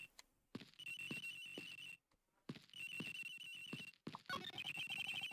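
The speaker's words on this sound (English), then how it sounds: "In Hicks' phone. It's ringing from somewhere, sir." A telephone rings in the Ace Attorney Investigations video game, with two long bursts of bright electronic trilling separated by a short pause, then a third burst that starts and continues to the end. No voices are heard.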